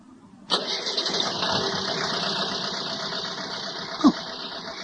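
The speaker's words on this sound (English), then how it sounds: "At that moment, Marcel hears a motor start." A car motor cranks and fires abruptly, then settles into a steady, fairly loud running drone, with a brief sharp sound near the end.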